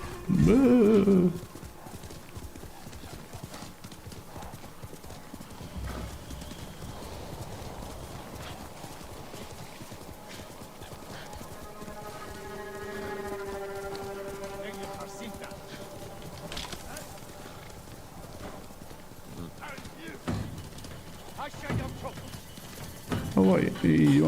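A horse galloping in the samurai video game Ghost of Tsushima, rhythmic clip-clop hoofbeats with a whinny, heard amid game ambience while someone talks intermittently over it.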